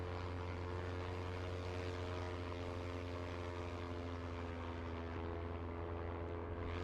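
A propeller-driven drone aircraft in the video game Broken Arrow drones steadily overhead, a loud continuous engine hum with a constant pitch that stays even throughout.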